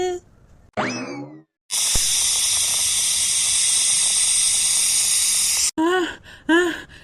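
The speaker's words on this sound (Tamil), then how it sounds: "விசிலு வந்துருச்சு" A cartoon pressure cooker whistle gives a long, loud, steady hiss in a kitchen scene, framed by short comic boings and voice-like squeaks before and after.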